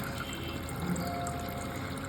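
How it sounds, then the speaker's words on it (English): Water pours steadily over a green-cheek conure parrot taking a shower, a continuous soft splashing and trickling flow heard close up at a fairly low level throughout. "Yes, mommy, I love my shower."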